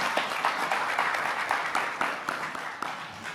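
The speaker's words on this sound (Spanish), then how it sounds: "un aplauso para Claudia Marcela Numa Páez" An audience applauds at a panel event, with dense, sustained clapping and sharp individual claps throughout, fairly loud and with no talk over it.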